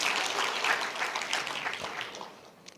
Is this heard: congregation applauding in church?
yes